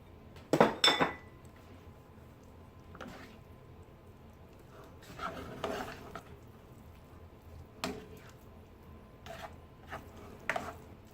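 A spoon stirs cheese into crab dip in a pot, making scattered scraping clinks and soft, squishy knocks against the metal. A louder clatter comes near the start, then quieter intermittent strokes follow.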